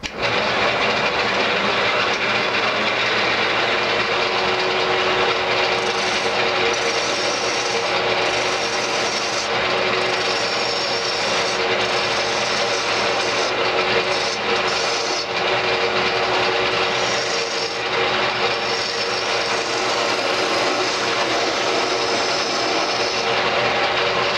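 A wood lathe turns a peppermill blank held in small chuck jaws while a bowl gouge cuts it down, making a loud, steady rasping scrape over the machine's constant hum, close and uninterrupted, with no talking.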